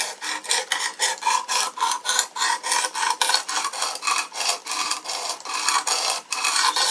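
A knife drawn repeatedly across the stone of a Work Sharp Precision Adjust sharpener, a close, steady run of rasping strokes about three per second, alone with no speech.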